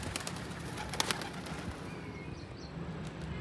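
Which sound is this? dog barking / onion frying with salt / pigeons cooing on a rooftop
pigeons cooing on a rooftop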